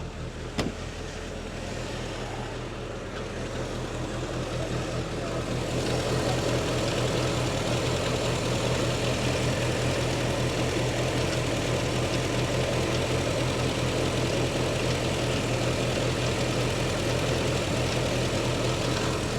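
An MG Midget engine idles steadily at a slightly raised, fast tick-over after a valve clearance adjustment and rocker cover gasket change, loud and close, its low rumble getting fuller after a few seconds.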